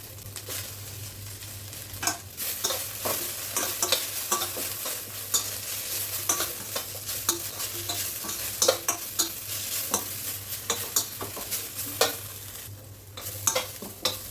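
Curry leaves fry steadily in a pan with scattered crackles and pops, plus intermittent scraping and stirring clatter, close and moderately loud with no talking.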